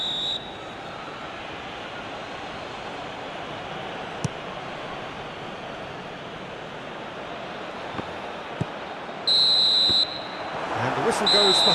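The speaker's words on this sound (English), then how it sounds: "Whistle goes for half-time." A referee's whistle in the football video game eFootball PES 21 blows at half-time, two short bright blasts near the end over a steady stadium crowd roar.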